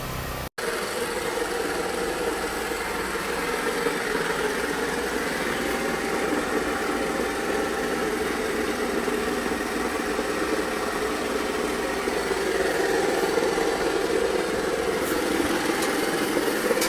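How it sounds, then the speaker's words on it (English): A Picote Maxi Miller descaling machine runs inside a cast iron pipe during trenchless work, giving a steady, continuous mechanical drone like an idling engine. It follows a sharp click at the start and holds unbroken at a fairly loud level with no talking. "descale it with our phenomenal revolutionary descaling machine called the Picote Maxi Miller"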